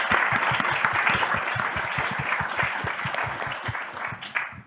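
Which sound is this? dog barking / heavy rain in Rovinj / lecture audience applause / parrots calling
lecture audience applause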